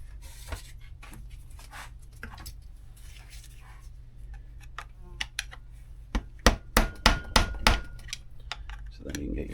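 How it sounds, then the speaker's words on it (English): Hammer blows knock down a bracket flap on a 2006 Suzuki Vinson 500 ATV during a workshop teardown, with scattered light taps at first, then a cluster of sharp, louder metallic strikes near the end. "So you have to hammer down"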